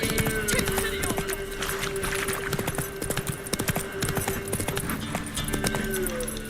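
Roach, a horse in The Witcher 3, gallops with rapid, rhythmic hoofbeats clattering steadily throughout, loud and close, over a droning game background.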